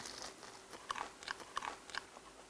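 Several crisp crunching bites into crunchy fried chicken coated in corn crumble and cornflakes, four or five sharp close-up crackles spaced across a couple of seconds over a quiet room background.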